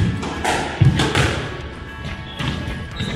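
Sharp thuds and slaps from a squash ball striking the racket and the court walls come through in a quick exchange, loud and close, with a booming indoor echo.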